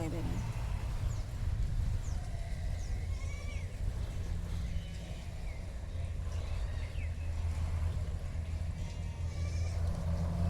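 Goats in a grassy garden field bleating several times in short wavering calls over a steady low rumble, with a person talking nearby in the background.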